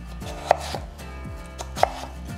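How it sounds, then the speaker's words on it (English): A knife chops potatoes into 3/4 inch pieces on a cutting board, giving a steady rhythm of close, crisp thuds with two sharper clicks, and no talk. "Cut into 3/4 inch pieces."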